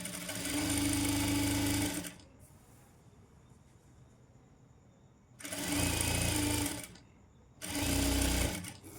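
A sewing machine stitches a fall onto a golden saree in three loud close runs, a long first burst, a pause, then two shorter bursts separated by a brief gap, with a faint quiet background between them.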